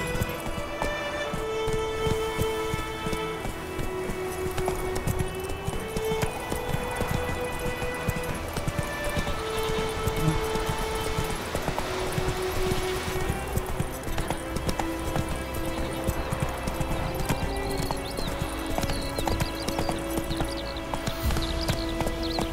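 Geralt's horse Roach gallops in The Witcher 3, a steady drumming of hooves running for over twenty seconds under a continuous bed of music. The pounding is moderate and even throughout, and a faint whinny surfaces briefly.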